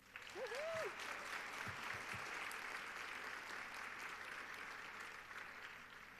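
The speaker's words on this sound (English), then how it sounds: "can we give a big round of applause to our wonderful MC" Audience applause at an awards ceremony for the MC, steady and sustained from start to finish, moderately distant, with a brief voice near the start.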